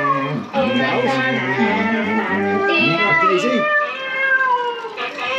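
A recorded cat meowing plays from an interactive farm animal feature at a theme park, several drawn-out, wavering meows in a row, loud and close, with a person's voice mixed in.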